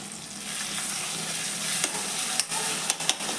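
Tomatoes sizzle steadily as they are sautéed in a pan for a spicy Gujarati moong dish, a constant close frying hiss with a few light clicks of stirring near the end.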